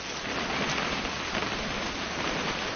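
Steady, dense patter of rain falling in a PS4 video game scene, an even hiss of drops on surfaces with no breaks, heard alone without voices.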